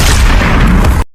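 A loud, dense gunshot blast from an Indian action film fills about a second with a booming burst before cutting off abruptly.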